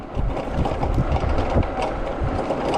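A Fuyu T8 electric bicycle ridden in third gear, producing a continuous low rumbling drone of motor and road noise that stays steady and fairly loud the whole time.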